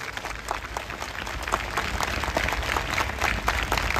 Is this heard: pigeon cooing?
no